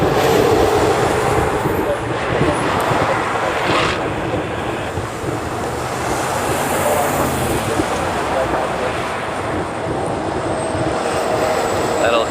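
A United island-hopper airliner roars with a loud, sustained jet-engine rumble at an airport, a broad continuous wash of engine noise filling the whole stretch.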